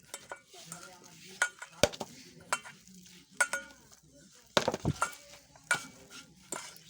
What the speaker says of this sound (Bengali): একটা কালো জিরে এগুলো দিয়ে ভালো করে মেখে নেব